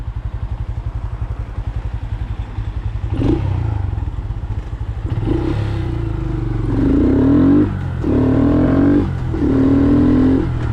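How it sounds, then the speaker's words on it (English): A Grom motorcycle with stock exhaust idles with a rhythmic, fairly mellow thrum, then revs up in several rising pulls, each swelling and easing off. "You might notice my exhaust is a little quieter."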